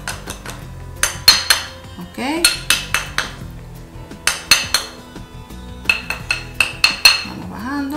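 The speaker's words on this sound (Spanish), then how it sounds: "Vamos a seguir martillando." Metal geometric chain links are struck with a hammer in a jewelry workshop: sharp, bright metallic blows land in quick runs of three or four, pausing between bursts, close and loud, with a brief spoken word.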